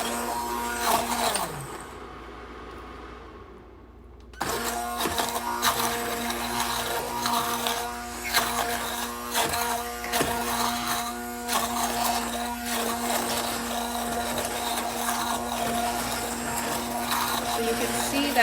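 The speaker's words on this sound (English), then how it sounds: "going to take my hand blender, which I've kept ready." Hand blender puréeing broccoli soup with onions and tomatoes, a steady high whirring buzz after a short quieter pause, running continuously and close with small clatters against the pot.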